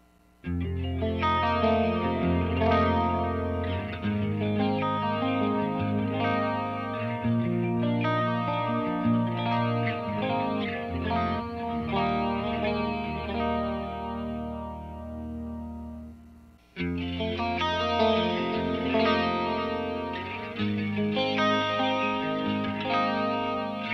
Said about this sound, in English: now let's turn on the flashback and the Julia and see what they sound like